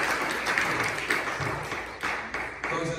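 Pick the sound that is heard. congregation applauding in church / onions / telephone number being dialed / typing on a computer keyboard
congregation applauding in church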